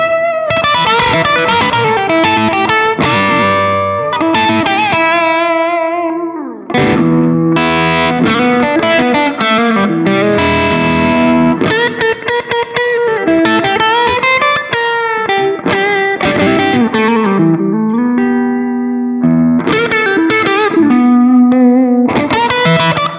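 An Orange electric guitar through an overdriven amp plays a loud, continuous run of gritty chords and single-note phrases with a brief pause partway through, no voices.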